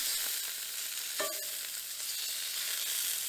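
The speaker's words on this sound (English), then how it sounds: "Letting the brats cook down a little bit." Bratwurst frying in a little oil in a pan on an old Coleman camp stove at a campsite in Hoosier National Forest. A steady, close sizzling hiss runs throughout, with a brief clatter partway through.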